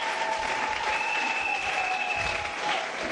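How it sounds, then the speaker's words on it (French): A church congregation applauds loudly and steadily throughout, a dense, even wash of clapping with a few voices faintly mixed in. "Acclamons très fort pour le roi de roi"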